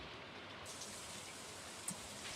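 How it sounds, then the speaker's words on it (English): Rain falls steadily in the farming video game Stardew Valley, a faint, even hiss that runs unbroken for the whole stretch with one small tap near the end and no voices. "You can hear the rain."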